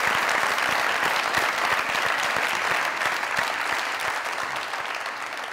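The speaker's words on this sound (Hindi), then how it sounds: "जोरदार तालियां।" A studio audience at a comedy talk show breaks into loud, sustained applause, a thick continuous roar of clapping that holds for several seconds and tapers slightly at the end.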